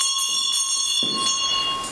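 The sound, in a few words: bell ringing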